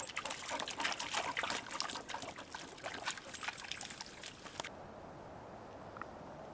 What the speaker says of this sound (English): I guess I was just surprised to see running water.